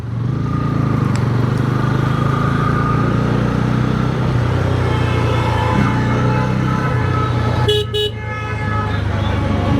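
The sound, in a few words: Bajaj Pulsar N160 motorcycle exhaust note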